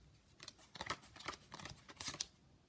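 Faint, close papery slides and soft clicks from a playing card being bottom dealt lightly off a deck, a quiet scattered rustle of several small card movements with no talking.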